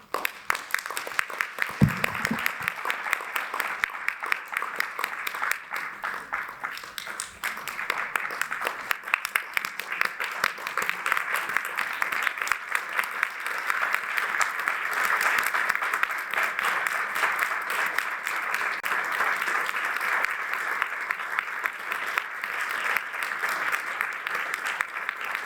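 Sustained applause from a room of attendees at a council meeting, honoring a colleague's retiring career; steady, dense clapping continues for the full length without voices over it.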